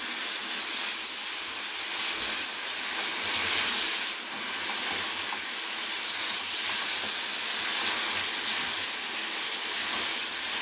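Chicken frying in ghee with curry leaves sizzles and hisses loudly and steadily in a pan, a dense continuous crackle with no talk.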